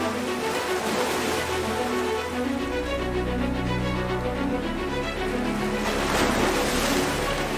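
Ocean waves break on a sunny beach, a steady broadband wash of surf that swells and recedes continuously, fairly loud and close, with no voices over it.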